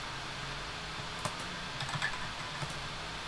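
Sparse typing clicks used as a typewriter sound effect: a few quiet, irregular keystrokes over a faint steady hiss, with no voices.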